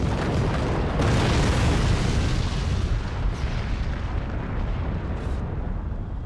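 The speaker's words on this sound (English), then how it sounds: "With all of our missiles, that nuke just going off in random directions." Nuke and missile blasts in the strategy game Forts roll into one continuous, loud rumbling barrage, with heavier booms near the start and around three and five seconds.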